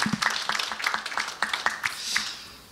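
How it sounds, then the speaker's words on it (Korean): A live audience at a seminary book concert claps to welcome a guest professor, a short burst of scattered hand claps with distinct individual slaps, moderately near and fading within a few seconds. "신웅길 교수님 박수로 환영하겠습니다."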